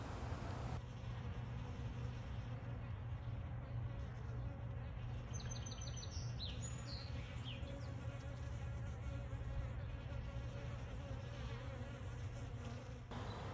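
A dense, constant buzz of many bees swarming close by around a hive after a swarm catch, droning steadily throughout with a few higher whines passing through.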